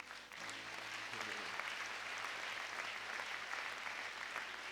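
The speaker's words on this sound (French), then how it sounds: "Acclame d'abord pour cette parole." A church congregation at a French-language prophetic service breaks into sustained applause, a dense, even wash of clapping that holds steady for several seconds.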